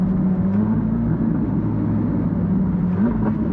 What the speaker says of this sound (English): it gives you an extra shot of the exhaust